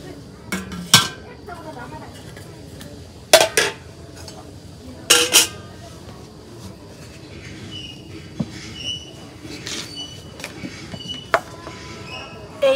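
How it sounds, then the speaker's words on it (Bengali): New potatoes are cut into small pieces for a Bengali fish curry. Sharp, sparse knife and cutlery clacks ring out against a plate or board, with quieter handling noises between them. "নতুন আলু কুইডে নেব ছোট ছোট করে। তো এখন আমি কুইডে নেই।"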